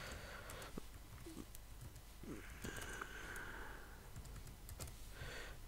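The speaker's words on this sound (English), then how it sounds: "then I'll type in my channel name" Soft, faint clicks of computer keyboard typing, scattered irregular keystrokes under a steady background hum.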